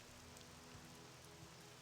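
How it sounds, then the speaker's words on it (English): Steady rainfall in a video game, a constant soft hiss of drops pattering on surfaces, faint and even throughout with a low background hum. "Oh, rain sounds. I love me some rain sounds."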